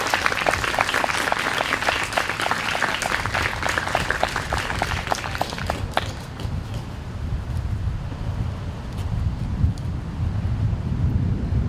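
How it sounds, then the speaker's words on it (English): Audience applause for poet Kevin at a youth poetry event, dense sustained clapping for about six seconds that then thins out into a rumbling, windy background noise. "Can we all give a big round of applause for Kevin,"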